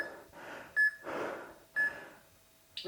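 A rowing workout timer gives two short, clear electronic beeps about a second apart, between rounds of heavy breathing and soft rustle.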